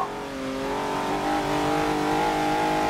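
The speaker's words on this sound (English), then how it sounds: "This is me racing around the Nordschleife in my open-top Alfa Romeo sports car." Open-top Alfa Romeo sports car racing around the Nordschleife in Forza Motorsport 7, its engine a steady, loud, high-revving drone with harmonics climbing slightly as it accelerates, no talk over it.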